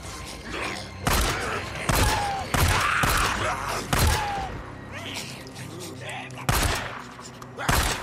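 Enemies fire guns in the video game Days Gone: loud, close bursts of gunshots with heavy thuds, a volley at the start followed by repeated shots across the whole stretch.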